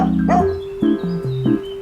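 A single dog gives a few short barks and yips at close range, with nothing else in the background.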